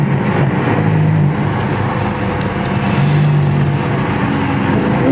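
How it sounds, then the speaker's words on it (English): An Audi R8 sports car overtakes at road speed, heard as a steady loud roar from inside a cruising car, with engine tones rising near the end as it passes close by. "Got the Audi R8 coming up behind us. See how this thing sounds when it passes us."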